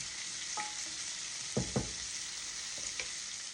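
Chopped onion frying in a pan for smothered pork chops, a soft steady sizzle with a few brief utensil knocks and scrapes near the middle, fairly quiet and without speech.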